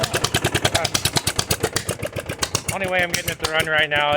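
Murray riding mower engine on full choke, running roughly with a fast, uneven chugging pulse close by, then a voice talks over it as the engine keeps sputtering.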